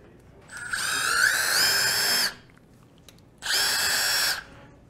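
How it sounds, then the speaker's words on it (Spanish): Milwaukee power drill boring with a titanium-coated bit, heard as two loud whining bursts, the first about two seconds long with rising pitch, then a shorter second run after a brief pause. "Ahorita te voy a enseñar lo que viene siendo la perforación con la broca, que es la que ya está puesta."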